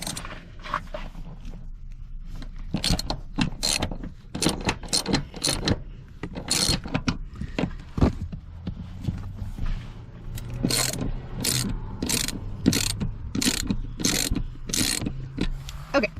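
A ratchet wrench loosens seat bolts on a 2024 Chevrolet Colorado ZR2, with close, rapid clicking bursts repeating throughout at a steady working pace.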